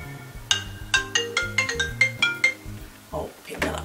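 A phone ringtone plays a bright repeating electronic melody of about ten evenly spaced tones, fairly loud and close, with a voice speaking briefly at the end.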